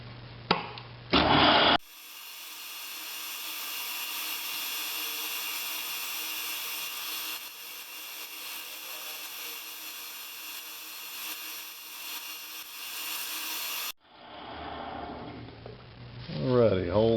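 A 23/64 drill bit, held in a drill chuck, bores through metal, a long steady high-pitched whine lasting about twelve seconds, bracketed by brief clanks and handling noise before and after.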